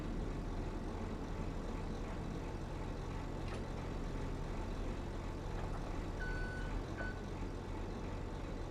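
A heavy-duty forklift in a farming game sends out a few short electronic reversing beeps near the six- to seven-second mark, sitting over a steady low engine rumble and general vehicle drone.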